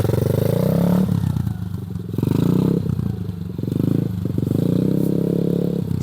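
A small Kayo 90 TS children's dirt bike engine buzzes and revs close by, surging and easing several times as it pulls away, with clattering gravel underneath.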